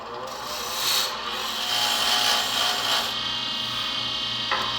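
Wood turning on a lathe while making a seam ripper blank, the tool cutting steadily and throwing chips and shavings, a continuous close scraping rasp over the motor's low hum with a few brief swells.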